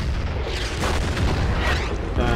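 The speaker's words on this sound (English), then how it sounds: "the enemy artillery is now in full swing" Enemy artillery fire in the Order of Battle strategy game, a dense, continuous rumble of booming blasts with bursts overlapping, loud and sustained throughout.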